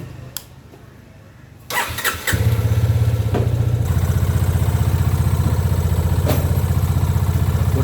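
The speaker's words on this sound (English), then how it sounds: "I'll start the bike." Motorcycle engine fitted with a DIY automatic chain oiler cranks with a few quiet clicks, then catches at close range and settles into a loud, steady, rapid idle.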